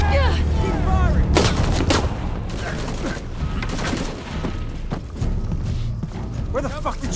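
Video game firefight with loud, rapid gunshots and heavy volleys that keep going, mixed with impacts and occasional voices, all close and dense.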